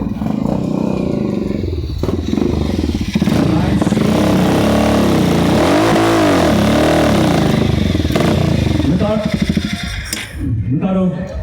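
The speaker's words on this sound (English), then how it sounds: "Ricardo Pereira from Bulleteer Customs, riding up on his motorcycle." A custom Harley-Davidson motorcycle from a bike build-off rides up close, its engine rumbling and revving loudly throughout with a surge in the middle, while people talk over it.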